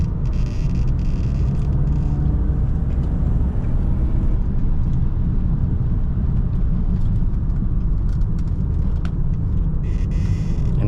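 Bone-stock light BMW E36 automatic driven hard on a winding touge road through corners and braking, a loud continuous engine and road rumble with tyre noise filling the cabin throughout.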